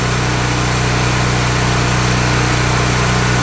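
A Honda generator engine idles steadily after a restart, a continuous loud drone with a strong low hum that holds evenly throughout, with no pauses or changes in pitch and no voices.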